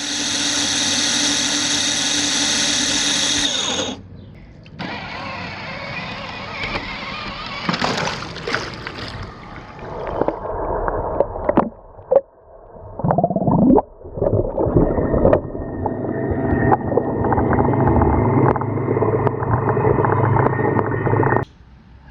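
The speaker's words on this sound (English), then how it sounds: "it'll enter the pool on its own" CX-1 cordless battery-operated robotic pool cleaner entering a swimming pool on its own: a steady motor hum, then splashing and gurgling water with bubbling bursts as it submerges, the sound shifting and muffling underwater.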